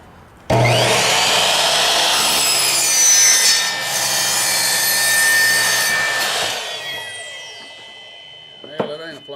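A power saw fitted with the wrong blade for plywood cuts through a plywood sheet during a shop bench build: a loud, close, sustained whining rasp lasting several seconds, winding down at the end with a brief clatter.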